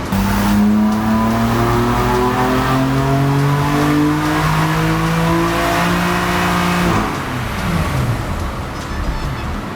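A BMW F80 M3 straight-six revs hard on a dyno with a cold-air intake fitted, climbing steadily in pitch for several seconds before the throttle lifts and the engine drops back, loud and close throughout.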